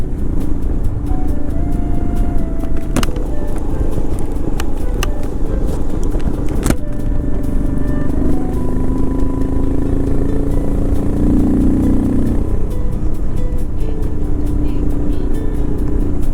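A modified Royal Enfield Himalayan 411 single-cylinder motorcycle fitted with Decata, DNA and FuelX parts rides at speed, its engine droning steadily throughout with wind rush and a few brief clicks.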